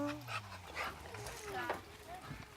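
A dog whimpers and yips in thin, high whines outdoors near water, rising and falling under a person's speech and background noise.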